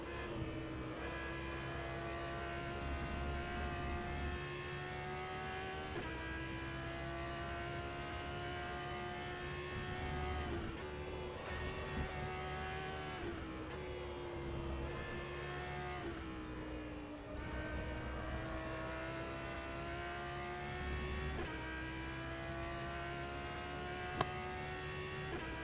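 An Audi R8 LMS GT3 race car lapping Silverstone in rFactor 2 drones steadily with a tonal engine whine, rising through the gears and dipping sharply at each shift, continuous and fairly quiet.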